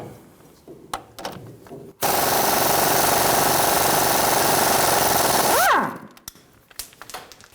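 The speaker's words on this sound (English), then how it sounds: "We're going to use a pair of pliers on the shaft of the sway bar link" A sway bar link nut comes off a 2005-2015 Toyota Tacoma steering knuckle: scattered metallic clicks of tools, then a loud, continuous power-tool buzz for several seconds that winds down, followed by more tool clatter.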